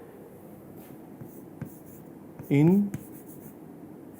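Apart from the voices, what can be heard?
writing on a board during a lecture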